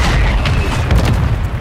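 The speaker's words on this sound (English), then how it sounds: "Mortar strike inbound." A loud mortar strike explosion in Call of Duty Modern Warfare 3 multiplayer, a heavy rumbling boom that sustains throughout with crackling debris bursts on top.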